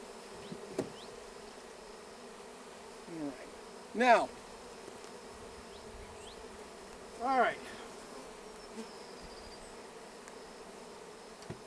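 Honey bees buzzing steadily while a hive is installed at a ranch, with a few louder swells standing out over the hum and a voice briefly speaking.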